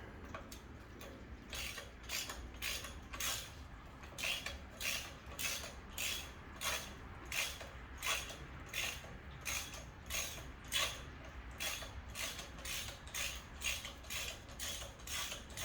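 A ratchet wrench clicks in quick repeated bursts while backing a screw out of the oil pan on a Vortec LS engine mounted on a stand, close and fairly quiet with no talking.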